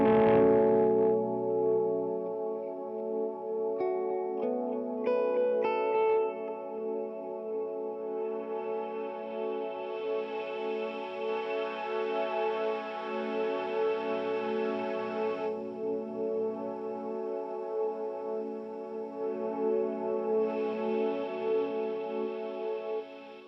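Electric guitar runs through an EQ pedal placed at the end of a pedal chain with delay and reverb, giving sustained, effected chords and single notes that ring and echo on their own for the whole stretch, with brighter swells partway through.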